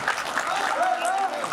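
An audience claps at a Shaan-E-Hindvi 2025 poetry gathering in Delhi, producing a dense, even patter of applause that lasts the whole moment, with some voices faintly mixed into the crowd noise.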